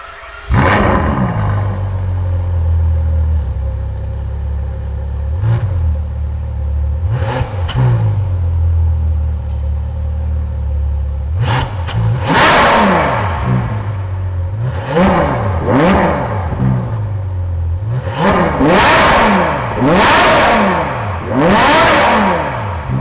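A 2021 Ferrari 812 Superfast V12 idling, then revved hard repeatedly, the engine note climbing and falling in quick blips that grow faster and louder toward the end, close and loud with no talk.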